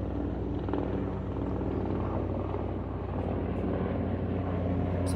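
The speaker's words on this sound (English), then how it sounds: "this time there's a helicopter" A helicopter flies overhead, making a steady, full thudding drone that holds at an even loudness throughout with no talking.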